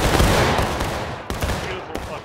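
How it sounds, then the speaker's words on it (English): Musket volleys crash out in the War of Rights battle game, a dense roar of overlapping shots from many rifles that decays into scattered reports, loud and close over a short burst, with faint voices underneath. "Beautiful volleys"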